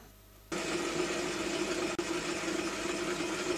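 A model V-8 engine driven by magnetic coils starts up and runs with a steady, even whirring buzz at close range, briefly dropping out for an instant midway before continuing.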